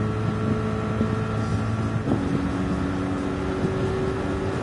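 Race car engine from a NASCAR video game on the Daytona road course, a steady droning whine with harmonic tones that shift pitch as the car changes gear, loud and continuous with no talking.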